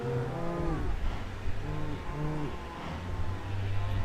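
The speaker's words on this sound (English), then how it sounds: "these cows are crazy" Cows mooing in a series of drawn-out, harmonic calls, several overlapping, close and fairly loud, with a low engine-like rumble running beneath them.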